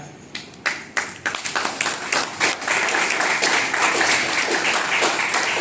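Audience applause fills a lecture hall in Sikkim, starting as scattered claps and swelling into dense, sustained clapping from a large crowd.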